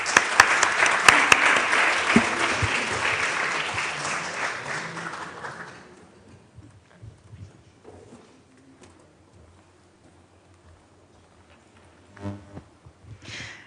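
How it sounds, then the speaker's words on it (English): An audience at a university workshop event applauds a student team, a loud burst of many hands clapping that fades out over about six seconds, leaving a quiet room with faint scattered noises and a brief rustle near the end. "One applause for you guys."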